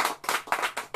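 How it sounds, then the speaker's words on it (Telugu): A church congregation claps in unison, five sharp, evenly spaced bursts of hands in about a second, close and brisk, with no talk over them. "ఒకసారి చప్పట్లు గట్టిగా."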